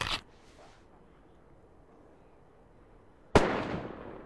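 Two gunshots in the video game DayZ: a sharp crack at the very start, then a near-silent pause of about three seconds, then a louder, closer report that fades with a short echoing tail.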